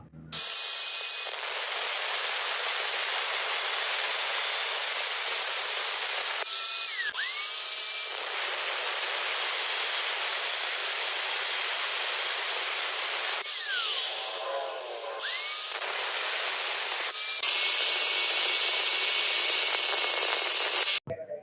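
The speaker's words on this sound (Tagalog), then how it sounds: "Balik grinderin ko na lang to." An angle grinder grinds down a homemade steel wrench in a long, steady, loud whine that runs for most of the stretch, dipping briefly as the tool lifts and changes pitch, then digging in harder near the end.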